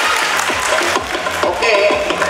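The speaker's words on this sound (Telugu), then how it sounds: "ఒకసారి మా ఫ్యాకల్టీకి గట్టిగా క్లాప్స్ కొట్టాలని నేను కోరుకుంటున్నాను." An audience at a school annual day celebration claps for the faculty, giving a dense, continuous patter of applause mixed with other crowd sound throughout.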